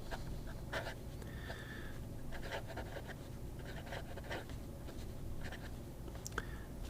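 Fountain pen with a modified flex nib scratches across paper in soft, irregular strokes, close and quiet against faint background hiss, with a few brief squeaky tones.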